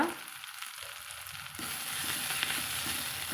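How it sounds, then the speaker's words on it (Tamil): Drumstick leaves and grated coconut fry in a pan, a steady broadband sizzle that swells louder partway through as the mixture is stirred, heard close with no voices. "தேங்காய் துருவல் சேர்த்து நம்ம கலந்து விட்டுக்கலாங்க"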